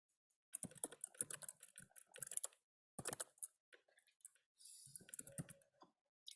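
Bursts of rapid clicking keystrokes on a computer keyboard as a word is typed out, close and fairly crisp, in three short runs separated by brief pauses, with no talking.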